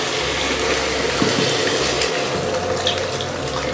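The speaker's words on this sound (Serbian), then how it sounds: "Sad ćemo da dolijemo vodu." Cold water pours steadily and loudly into a cooking pot for several seconds while a traditional keške dish is being made, with no voices over the rushing stream.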